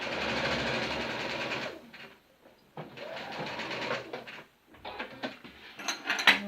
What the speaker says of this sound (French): Et je vais coudre à 1 cm.